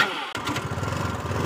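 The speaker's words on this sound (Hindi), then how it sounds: "ये देखिए गाड़ी हमारी स्टार्ट हो चुकी है।" A Hero Maestro Edge scooter fitted with a Duet CDI cranks and its engine catches after a brief break, settling into a close, steady, buzzing idle.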